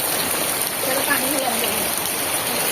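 Heavy rain pours steadily as a dense, even hiss of falling water, continuous and close throughout, with a faint voice briefly murmuring underneath.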